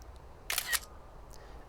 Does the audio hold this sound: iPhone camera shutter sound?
yes